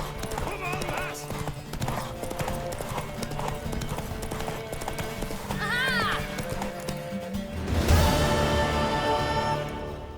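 Hooves of a horse in the video game The Witcher 3 pound in a fast, steady galloping rhythm, with a whinny midway and a loud burst near the end, under music and brief spoken dialogue.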